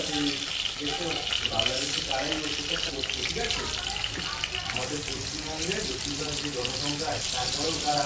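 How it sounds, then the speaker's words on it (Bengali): Turmeric-coated river fish (ban mach) fry in hot oil with a dense, continuous sizzle and crackle, close and steady throughout. "এবার আমি মাছগুলো ভেজে নেব"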